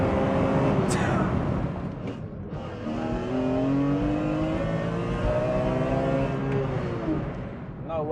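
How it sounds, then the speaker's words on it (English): Engine of a 350 bhp BMW E46 M3 CSL replica revving through rev-matched downshifts in Friday evening traffic, a steady close rasp with rising and falling harmonic sweeps, briefly dipping around two seconds. "All I can do is just keep rev matching for you."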